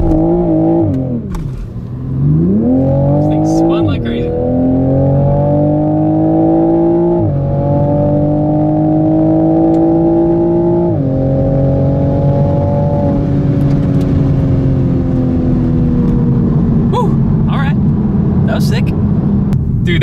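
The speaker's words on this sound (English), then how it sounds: "2020 Supra down the drag strip." A 2020 Toyota Supra accelerates hard down a drag strip, its engine climbing through several gear changes, each shift marked by a brief dip before the pitch rises again, loud and close throughout with occasional voices over it.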